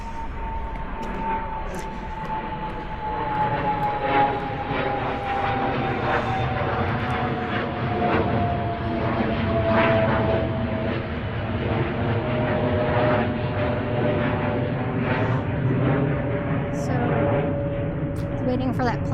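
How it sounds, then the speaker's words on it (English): A propeller airplane drones overhead, its engine hum rising and slowly shifting in pitch as it passes, steady and fairly loud. "Waiting for that plane to go over"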